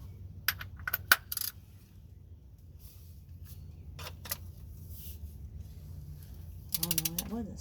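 A torque wrench set to 7 foot-pounds clicks during servicing of a Ram 3500 68RFE transmission, with a few sharp metallic clicks and ratchet ticks scattered over a quiet background and a denser cluster of clicks near the end.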